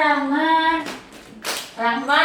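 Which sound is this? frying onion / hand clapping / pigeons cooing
hand clapping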